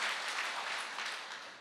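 Dense, steady applause from a crowd at a health awareness program, sustained throughout and fading only slightly toward the end, with no voices.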